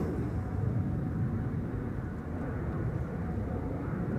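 An airplane takes off from the Polderbaan runway at Amsterdam Schiphol, heard at a distance as a broad, steady jet roar with a low rumble that holds without a break.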